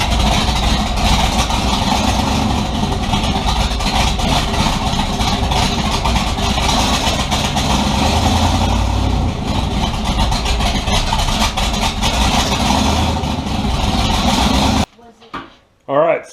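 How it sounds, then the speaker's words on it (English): A tunnel ram car engine running at a rough, rich idle, a loud continuous close rumble lasting about fifteen seconds before cutting off, with someone speaking over it. "So I'm going to fire this thing up. We'll see how it runs."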